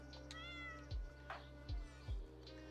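A pet cat in the Stardew Valley video game meows a few times with bright, rising tones over steady game music and low thumping effects.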